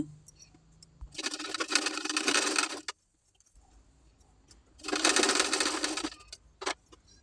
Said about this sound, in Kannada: ಈಗ ಬ್ಲೌಸ್ ಟಕ್ಸ್ಗಳನ್ನ ಸ್ಟಿಚ್ ಮಾಡ್ಕೊಳ್ಳೋಣ.